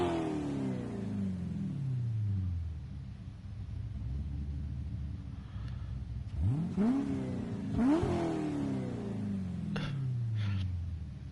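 Corvette LS V8 engine in Gran Turismo 7 revving, with a falling rumble, a steady drone, then two sharp blips of throttle rising and dropping, fairly close and loud, with no voices.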